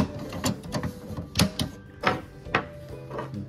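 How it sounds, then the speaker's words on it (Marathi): A refilled HP Deskjet colour cartridge is pushed into its slot in the printer, giving a series of close plastic clicks, knocks and snaps in uneven bursts with no speech. "सो आता आपण कलर कार्टेज कलरच्या जागी लावूया"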